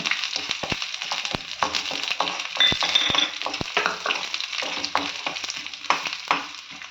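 Crushed garlic fries with roasted chana dal in hot oil for radish greens keerai, a close, lively crackle with scattered stirring clicks and scrapes throughout.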